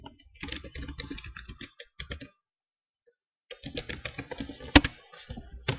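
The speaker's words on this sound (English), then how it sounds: "Okay, so this is how you type it in." Bursts of clicky computer keyboard typing, fairly close, broken by a pause of about a second and a sharper click near the end.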